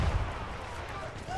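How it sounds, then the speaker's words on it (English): Grenade blast in the Battlefield 1 shooter on PS4 Pro, a deep low rumble bursting at the start and fading into a sustained roar, with a voice talking over it. "Grenade."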